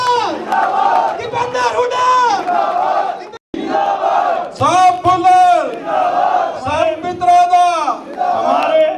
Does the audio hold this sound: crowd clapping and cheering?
yes